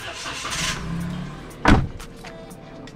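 A rental car's engine cranks and catches in one loud, short burst inside the cabin, after a quieter moment of interior rustling, then settles into a low idle.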